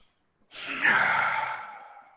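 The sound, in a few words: person breathing out during yoga breathing exercise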